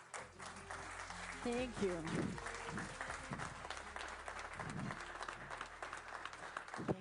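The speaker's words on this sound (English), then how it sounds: "So a round of applause." Audience applause at a European Commission event in Brussels as a guest is invited on stage, a steady wash of clapping filling the room throughout, with a brief spoken thank-you over it.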